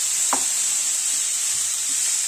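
Chopped snake gourd is stirred into a hot frying pan for a dried shrimp stir-fry, giving a steady close sizzle with a couple of brief scraping stirs.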